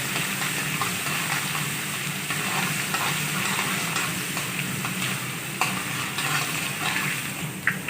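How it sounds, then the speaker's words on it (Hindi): Garlic ginger paste sizzling lightly in hot oil in a pan, a steady close frying hiss with occasional stirring scrapes, no talking. "हल्का सा फ्राई करेंगे।"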